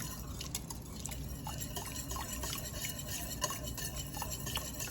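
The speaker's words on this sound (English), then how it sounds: "To this, I'm going to stir in 2 cups of heavy cream." A spoon stirs cold heavy cream into a pumpkin mixture in a bowl for keto pumpkin spice ice cream, making close wet swishing and soft clinks against the bowl in an irregular rhythm.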